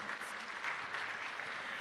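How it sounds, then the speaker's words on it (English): Audience applause at a public sector launch event, a sustained wash of many hands clapping, fairly distant and soft but continuous from start to finish. "Another rousing round of applause for all the change makers"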